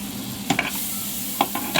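Butter melts in a pan on medium heat for a beef caldereta, giving a soft steady sizzle with a few quick stirring scrapes, close up and without talking.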